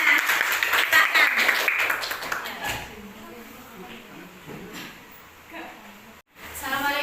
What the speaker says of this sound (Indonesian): Mbak Nisa, kasih tepuk tangan keduanya